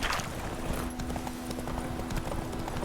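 Roach the horse galloping in The Witcher 3, hooves clip-clopping in a quick, steady rhythm over a soft ambient bed, with no talking.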